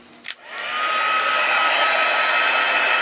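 A hair dryer switches on after a brief knock and runs steadily with a loud, close airy whir, drying wet watercolour paint on a handmade card.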